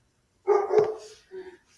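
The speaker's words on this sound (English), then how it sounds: "Kona's barking because the DoorDash guy is outside" Kona, a pet dog indoors, barks at a delivery person outside: one drawn-out, rough bark followed by a shorter second one, loud and close in a quiet room.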